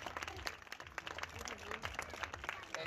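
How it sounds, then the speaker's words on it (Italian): An outdoor audience at a Positano commemoration for Covid victims claps steadily, a dense wash of applause with some voices underneath, fairly faint and heard from a distance. "Veramente farei un applauso a questa gente che non c'è più"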